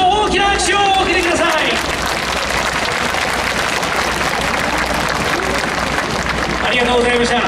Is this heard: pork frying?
no